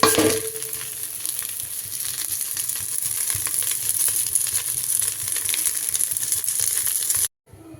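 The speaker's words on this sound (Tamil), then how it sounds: "சவுண்டு பட்டுன்னு வெடிக்கிறது உங்களுக்கு இருக்குதா?" Drumstick leaves heat in a pan with a steady sizzle, broken by sharp scattered crackles and pops that keep going close by until the sound cuts off near the end.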